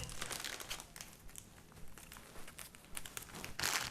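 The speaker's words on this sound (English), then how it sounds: "I'm going to cut off another long strip of sticky tape" A long strip of sticky tape is pulled off the roll and cut while a floral bouquet is wrapped, a quiet run of crinkly tearing and rustling bursts that ends in a sharper, brighter rip.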